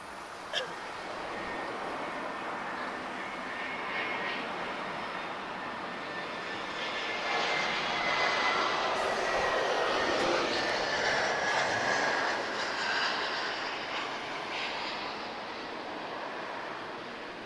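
An Airbus A320-214 arriving on a flight from Lyon, France, at Lisbon Airport, its engines roaring steadily and swelling louder near the middle as it passes close, with a faint voice briefly underneath.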